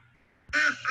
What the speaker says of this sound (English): With the ducks running and squawking